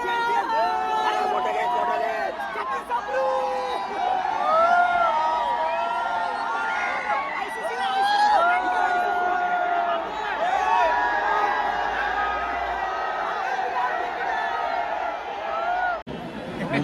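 A large street crowd at Marine Drive, Mumbai, celebrating India's cricket trophy win, with dense babble, scattered cheers and shouts filling the air; a nearby voice talks over the din throughout.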